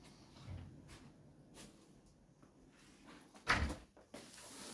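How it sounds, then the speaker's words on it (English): Two sliding wardrobe doors roll open and soft-close. The quiet, faint rolling is broken by a clear muffled thump near the end and a few lighter knocks. "So we make this wardrobe today with two sliding doors outside."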